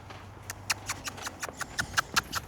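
A ridden horse lopes along with rhythmic hoofbeats thudding at an even pace, fairly close and clear against light background noise.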